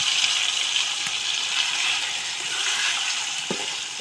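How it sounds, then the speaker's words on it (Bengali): Marinated chicken dropped into hot oil in a black wok sends up a loud, continuous hissing sizzle, with a couple of brief pops near the end. "এখন এই গরম তেলে আমি ম্যারিনেট করা চিকেনটাকে দিয়ে দেব।"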